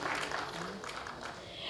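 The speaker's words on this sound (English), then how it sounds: "Can we have a huge round of applause for Professor Subharajan?" Audience applause at the International Excellence Awards 2023 ceremony: a dense, steady wash of clapping from a crowd that holds at an even level for the whole stretch, with no voices standing out.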